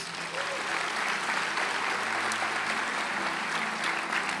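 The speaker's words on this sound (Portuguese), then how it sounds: "Uma salva de palmas para as mulheres" A church congregation gives a warm round of applause for the women during a Portuguese-language service, a thick, continuous wash of many hands clapping at an even level throughout.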